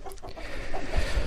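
Hamburg chickens, two hens and a rooster, clucking softly at close range in a poultry yard, a few short calls over low background rumble.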